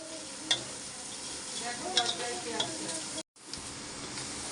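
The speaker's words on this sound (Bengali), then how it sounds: "এবার দেবো নারকেল বাটা, নারকেলটাও সুন্দর করে ভাজা নেব।" Coconut paste fries in a pan with garlic and green chilies, giving a steady close sizzle broken by a few sharp spatula scrapes and a brief silent cut near the end.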